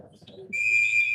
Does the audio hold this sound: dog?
no